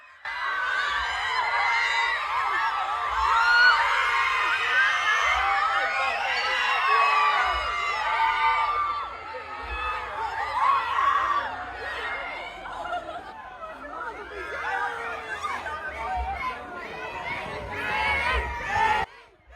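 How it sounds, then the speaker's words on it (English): Fans on a quiet London street cheer, laugh and chatter excitedly for a singer, a lively crowd with overlapping voices and bursts of laughter rising and falling. "A cheer erupted on the quiet street as fans sprung to their feet and reached upward towards the singer."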